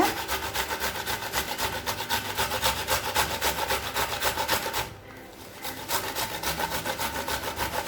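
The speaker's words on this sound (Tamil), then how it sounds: "இப்போ அடுத்தது அதே மாதிரி தக்காளியும் துருவிக்கலாம்" Ripe tomatoes grated by hand on a grater, giving a steady rhythmic rasping scrape that runs continuously, pauses briefly near the end, then resumes, close and alone with no talk.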